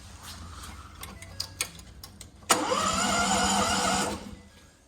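Diesel engine of a 2012 Ford F550 4x4 mechanics truck cranks briefly and catches, then settles into a loud, steady idle close by before cutting off, following a few small clicks and taps.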